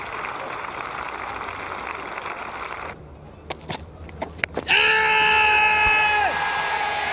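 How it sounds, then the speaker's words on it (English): A cricket crowd at an England versus New Zealand Test match roars and cheers a six, a broad wash of noise that dips briefly and then swells into loud sustained cheering, with a few whistles and shouts. "Ecstasy from the crowd."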